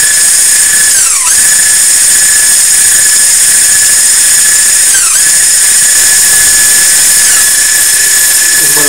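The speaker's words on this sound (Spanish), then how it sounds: "primero batimos las claras" An electric mixer whips egg whites for a gluten-free rolled sponge cake. The loud, constant high whine runs throughout, and its pitch briefly sags and recovers several times as the beaters work the whites.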